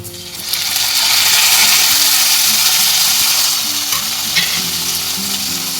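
Chopped onion and tomato fry and sizzle steadily in an oil-filled pan for a Konkani chicken curry, a loud continuous hiss close by with occasional scraping stirs.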